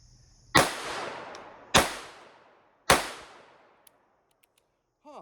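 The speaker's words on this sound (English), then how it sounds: "Off with the safety. And on with the shooting." Three loud, sharp gunshots from a Beretta M1935 pistol, spaced roughly a second apart, each with a long decaying echo, followed by a few faint small clicks and no talking.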